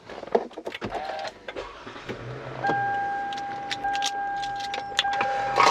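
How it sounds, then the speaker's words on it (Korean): A 3500cc gasoline minivan engine starts from inside the cabin, a brief crank followed by a smooth, steady idle hum with a faint tone, preceded by small clicks and rustles of the interior. "시동 소리 같은 경우에는 뭐 당연하게도 3500cc 휘발유 차량이다 보니까 굉장히 스무스하게 부드럽게 잘 걸리고 있는 차량이고"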